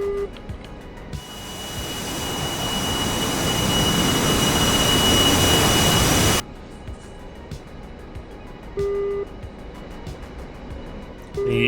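A MiG-29S jet engine in flight in a flight video game roars steadily and loud, swelling for several seconds before cutting off abruptly and dropping to a quieter rumble with brief tones.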